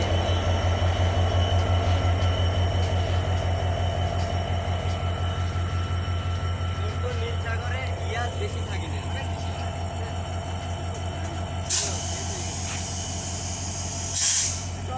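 The Nilsagar Express waits at Santahar Junction behind its 6604 American Giant diesel locomotive, giving a constant low engine rumble with bursts of air-brake hiss near the end, while people talk over it.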